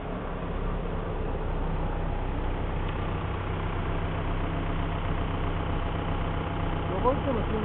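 A 2011 Kawasaki Ninja 1000 motorcycle engine idles steadily at close range, a continuous low mechanical rumble that holds even throughout.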